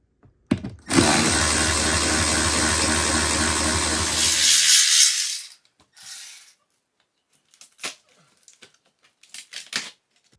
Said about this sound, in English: So we're going to take off the last 2 bolts.